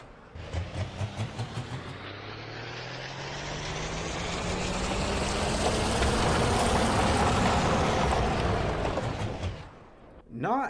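A Case IH pulling tractor in a tractor pull competition, its engine roaring loud and sustained as it builds and holds full power down the track, with a crowd-scale wash of noise and brief voices near the start and end.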